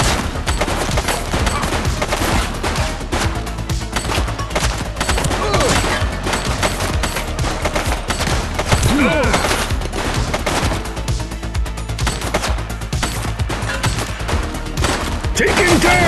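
Rapid gunfire in the police video game The Precincts, dense bursts of automatic shots and single cracks running almost continuously, loud and close, with occasional voices between volleys.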